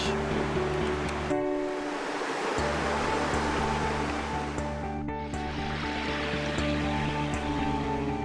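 Donaldson River in Tasmania, beside the Western Explorer Road, gives a steady, loud broadband rush of flowing water, continuous and close. No voices are heard over it.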